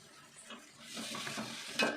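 A spoon stirs soy sauce and tomato sauce in a hot frying pan while it sizzles steadily, with scraping that grows a little louder toward the end and one sharper clink near the close.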